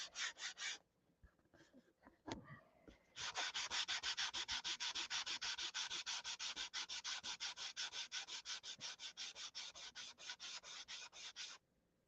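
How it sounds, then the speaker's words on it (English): Rhythmic back-and-forth sanding strokes rasp across the painted surface of a SIG Magnum model airplane, a few at first, then a long steady run of rapid, even passes close up. "you got to sand that out until the lows go away"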